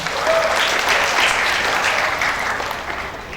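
Loud, dense clapping from a large audience at a health-college graduation ceremony in Martapura, Kabupaten Banjar, a continuous wash of applause that eases off slightly toward the end.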